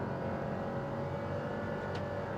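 A Perodua Ativa small SUV with a CVT at speed in sport mode, its engine giving a loud steady drone with road and wind noise throughout, no voices.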